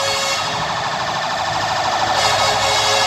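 A loud, continuous emergency siren from ambulances and fire trucks responding to a large fire in Makati wails with a rapidly warbling tone, sounding close and filling the whole stretch without pause.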